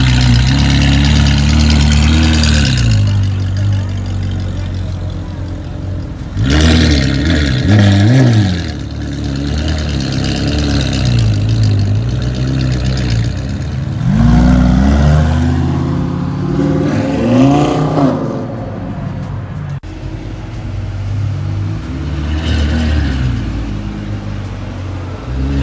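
Ferrari 458 Liberty Walk with an aftermarket exhaust, loud and close, idling with a rough burble and repeatedly revving up in sharp, rising blasts before settling back.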